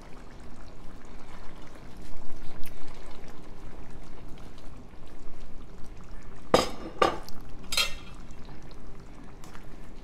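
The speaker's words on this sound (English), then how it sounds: "now I'm going to go ahead and add the chickpeas and the red kidney beans" Chickpeas and red kidney beans tip into a pot of simmering vegan Jamaican-style vegetable curry, three short bright pouring splashes over a steady bubbling background, with no talking.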